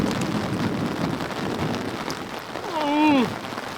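Rain falls steadily outdoors during open-air cooking of a giant pizza, a dense even patter close by. A short voice cuts in near the end.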